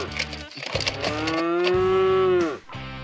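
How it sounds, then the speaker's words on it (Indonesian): Toy cow letting out a single long electronic moo, tonal and drawn out for over a second, played close amid brief surrounding sounds. "Yang ini induk sapi bule."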